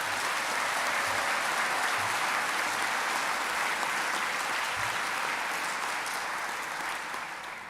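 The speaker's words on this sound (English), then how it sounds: "Let's please give them a round of applause." Sustained audience applause at a medical school white coat ceremony, a dense, steady wash of many hands clapping throughout, loud and even, tapering slightly at the very end.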